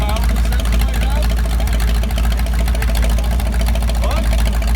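A 60-year-old GM Corvette V8 engine runs loud and steady at idle, a dense, throbbing rumble close by that holds constant throughout, with people talking under it.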